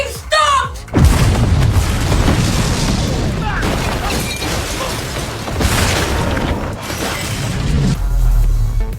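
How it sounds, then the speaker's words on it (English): A powerful explosion in a thriller movie heist scene hits with a heavy booming blast and shattering debris, followed by a sustained rumbling roar, while someone narrates over the sound. "The powerful explosion blanketed the entire area in thick smoke."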